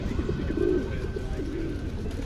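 Pigeons cooing in Washington Square Park, a low, soft, close warbling coo over a steady outdoor city background.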